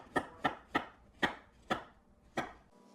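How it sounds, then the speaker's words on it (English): Vegetables being chopped on a cutting board for pickling, part of a carrot harvest: six sharp, close knife strikes spaced irregularly over a few seconds, with no talking. "I'm just gonna let it sit while I finish cutting up the vegetables"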